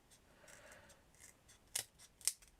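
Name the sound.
cutting card straight for a miniature garage diorama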